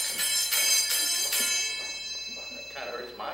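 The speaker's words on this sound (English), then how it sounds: "Ring this bell." A hand bell is rung hard to close a silent auction at a historical society event. It gives a run of loud, rapid metallic clangs that fade into room noise after about a second and a half.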